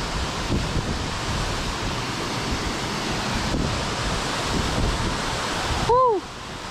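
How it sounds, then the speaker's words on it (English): A roaring waterfall along the Blue Ridge Parkway, heard as a loud, steady broadband rush with wind buffeting the microphone, and a brief voiced exclamation near the end. "go over to the waterfall and check it out"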